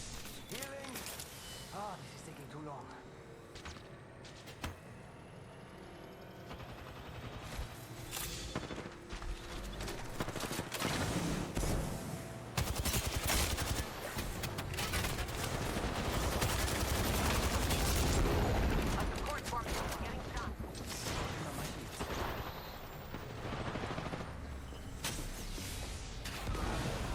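Rapid bursts of video game gunfire in a battle royale match crackle through busy mechanical clatter, running continuously and growing denser and louder toward the middle, with a player talking over the action.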